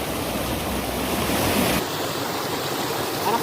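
Little Falls, a small waterfall on the Pilemon River in Tubajon, Dinagat Islands, gives a steady, broad rush of falling water, loud and close, continuous from start to end with a brief shift partway through.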